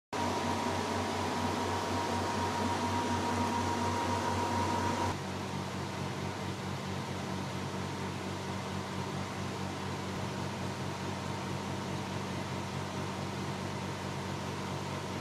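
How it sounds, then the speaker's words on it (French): An air conditioner runs during a heatwave, a steady whooshing hum that is fuller for the first five seconds, then settles into a slightly quieter, even drone. "le climatiseur a du mal"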